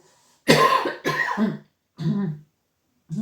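A person who has not fully recovered from an illness coughs in three distinct, harsh bursts spaced about a second apart, close and loud, with no talking.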